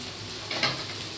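Poha stirred in a frying pan gives a short, close sizzle with a brief scraping swish of the spatula partway through, alone and moderately loud.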